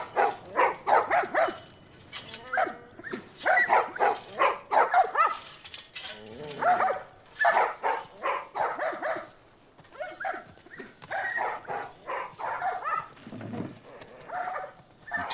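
Dogs bark and yip repeatedly in the video game The Last of Us Part I, bursts of barking scattered throughout amid background voices and game ambience.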